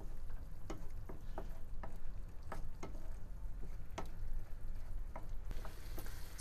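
Saffron and smoked Spanish paprika stirred in a frying pan for a vegan fideuà, with a steady close sizzle and several sharp utensil clicks and scrapes spaced through it, no voices.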